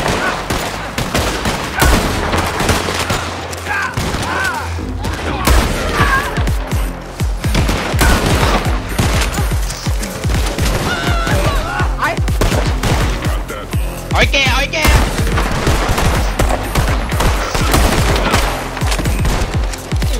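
Nonstop gunfire in a shooter video game: rapid automatic bursts and single shots rattle densely and loudly for the whole stretch, close and layered, with occasional faint voices underneath.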